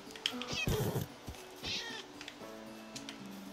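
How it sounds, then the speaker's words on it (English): Cat meowing in Minecraft, a couple of clear, close meows early on followed by softer mewing calls against quiet background game sounds. "It's the same damn cat!"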